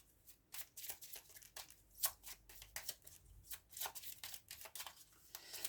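Tarot cards are shuffled for a nine-card spread, giving a steady series of soft, papery riffles and flutters, close but quiet, repeating in quick bursts without talk.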